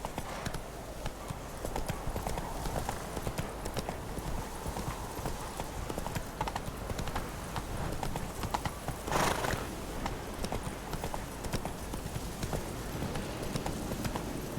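Roach the horse gallops in The Witcher 3, a steady, loud drumming of hooves that runs the whole way, with a brief whinny near the middle.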